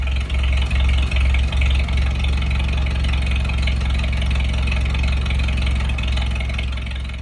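A Farmall tractor engine idles after a tune-up, a loud, close, even low chugging with a steady rhythmic beat throughout, fading slightly at the end.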